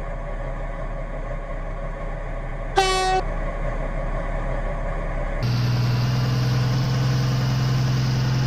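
A steady rumble from a five-coach Stepford Express train in Roblox Stepford County Railway runs throughout, broken by a short sharp horn blast, then the engine drone grows louder and fuller.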